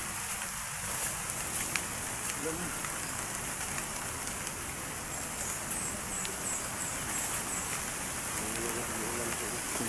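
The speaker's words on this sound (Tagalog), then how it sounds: "So, kitang-kita niyo umuulan na mga idol." Steady rain falls in a continuous hiss, with occasional drips and faint voices in the background.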